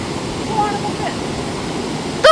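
Water flows steadily at a riverside as a broad continuous rush, fairly loud and close, with a brief voice near the end.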